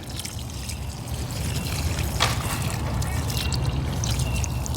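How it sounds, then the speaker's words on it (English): Water poured by hand onto newly planted Endless Summer hydrangeas in a Florida garden, a steady soft splashing trickle into soil and mulch, continuous and close. "let me get them watered in now"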